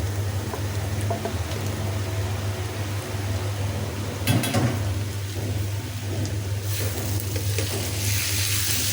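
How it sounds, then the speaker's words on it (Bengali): Marinated chicken sizzles as it goes into a pan of oil, a steady close frying hiss over a low hum, with a brief clatter partway through. "এখন দিয়ে দিচ্ছি মেরিনেট করা গোস্তটি"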